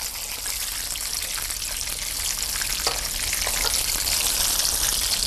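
A schnitzel fries in hot fat in a pan until crisp, with a loud, continuous crackling sizzle and scattered pops.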